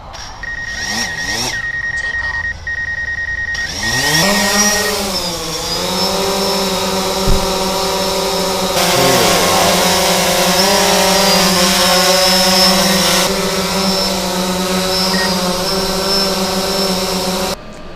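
DJI Phantom 4 drone propellers spinning, comparing stock props with quieter ones: a high whirring whine spins up after a few seconds and holds loud and steady, with faint motor tones briefly before.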